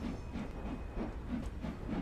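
A steam locomotive in Train Sim World 2 puffs in a steady rhythmic chuff over a low, constant hiss and rumble, soft and even, with no voices.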